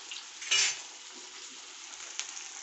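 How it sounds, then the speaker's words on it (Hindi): Sabudana tikki deep frying in oil in a kadhai, a faint steady sizzle broken by a brief louder burst of spattering and a light clink of a utensil. "यहाँ पे हम डीप फ्राई करके मैं दिखा रही हूँ"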